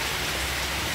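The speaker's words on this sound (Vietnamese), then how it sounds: "Trời mưa mấy bão." Steady rain falls on an outdoor site where a Kubota E55 excavator is shown, as a continuous even hiss with no talk.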